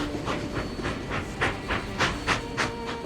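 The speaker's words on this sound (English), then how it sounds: "When the trains had thundered past" A steam train rushing past close by, loud hissing and rumbling with a steady rhythmic clatter of wheels over the rails.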